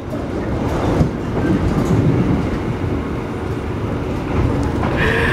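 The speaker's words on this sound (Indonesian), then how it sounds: "Tadi papasan dan kereta api ketel." Heard from aboard the Malioboro Express passenger train between Kediri and Solo Balapan, a tanker freight train passes on a double track at speed, a loud continuous rumble and rush of wheels on rails with rattling clatter throughout.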